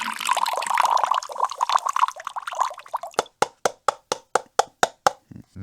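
Gold-prospecting pay dirt pours from a small bucket with a rushing, gritty slide, followed by a run of evenly spaced sharp plops and knocks, close and fairly loud.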